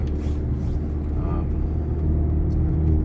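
A Volkswagen Golf 7 GTI with a DSG gearbox cruises gently on a road test, its engine a steady low hum and rumble with road noise heard from inside the cabin.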